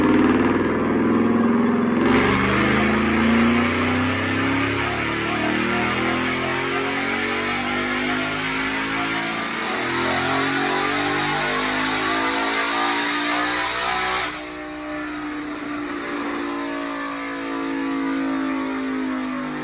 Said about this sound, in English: So right now, let's go check out this dyno pull.